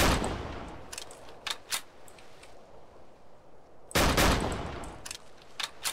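Gunfire in the survival video game MTA DayZ: a loud volley opens, then scattered single shots, then a second burst about four seconds later, all over constant low ambient game noise.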